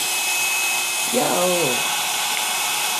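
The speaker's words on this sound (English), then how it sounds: "I could put it on high, low, cool, off. And so, after I'll do this, I'll do it on cool real quick." A household blow dryer runs on its cool setting, giving a steady, close airy whoosh from start to finish, with a short spoken word partway through.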